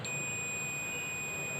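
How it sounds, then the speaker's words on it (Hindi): A multimeter's continuity buzzer sounds as a steady, unbroken high beep during a diode test on a Samsung 32-inch LED TV power supply board, with faint background hiss. "देखिए मीटर का बजर बज रहा है"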